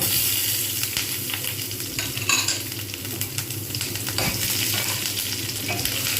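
Green chillies fry in oil in a pan for a spicy tangra fish curry with mustard and poppy seed paste, giving a steady close sizzle broken by occasional utensil scrapes and stirring, with no talking.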